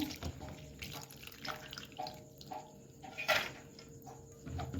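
Food for a homemade veg roll is washed in water and strained, with splashing, running and dripping water in uneven bursts, fairly close and moderately quiet, with no talk.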